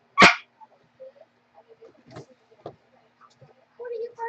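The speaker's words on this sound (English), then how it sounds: "What are you barking for?" A dog gives one sharp, loud bark at the start, then softer whimpers and yips scattered through the rest, with a person talking quietly in between.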